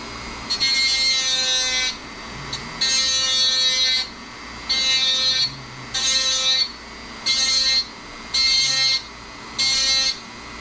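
A VEVOR rotary tool shaving material off a workpiece: a loud, high whine that runs in about six even bursts of roughly a second each, separated by short gaps as the tool touches and lifts away.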